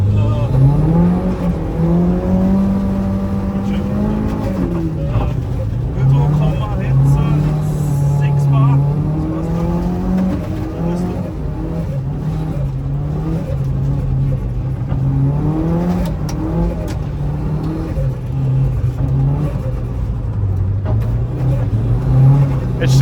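A Mitsubishi Lancer Evolution V RS engine revs and pulls while being driven, its pitch rising and falling through gear changes as a steady loud drone from inside the car, with a person talking over it.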